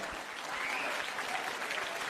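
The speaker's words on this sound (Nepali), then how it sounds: "ताली बजाएर वेलकम गरौँ" An audience claps steadily in welcome as a contestant comes onto the stage at a talent show, the applause loud and continuous throughout with no talk over it.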